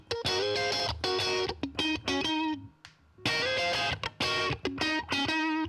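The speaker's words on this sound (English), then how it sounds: "So you get some distortion on it." Electric guitar played through distortion, ringing out in strummed chords and short phrases with brief pauses, loud and alone without talk.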